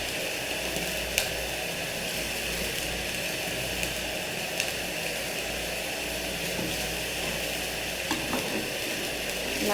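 Chopped bottle gourd is stirred into beetroot and potato sizzling in a pan, a steady loud fry with a few faint clinks of the spoon and no talk.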